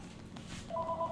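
Steady two-tone telephone dialing beeps come in partway through, loud and continuous over a low background hum, without any talking.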